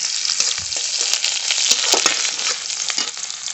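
Whole garlic cloves, whole cumin and chopped onion fry in hot oil for a Bengali tempering, a loud close sizzle with scattered pops and scraping stirs, alone without talk.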